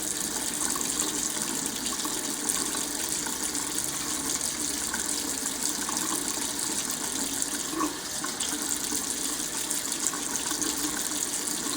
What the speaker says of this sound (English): And rinse your razor often. Keep it cleaned out,